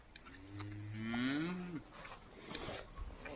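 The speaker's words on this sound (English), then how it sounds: "Cows moving to a new spot." A single cow on a farm lets out one long, drawn-out moo that rises and then falls, fairly close and clear, followed by faint rustling.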